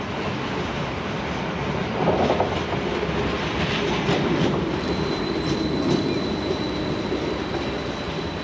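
Bergensbanen passenger train on the Bergen to Oslo line rolling steadily, with a continuous loud rumble of wheels on rails, faint clickety-clack and a brief high wheel squeal near the end, no voices.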